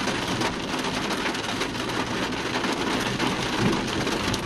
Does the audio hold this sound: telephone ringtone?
no